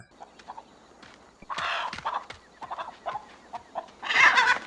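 A chicken clucks in a series of short, uneven calls, with a couple of louder, harsher squawks, heard fairly close with no talk.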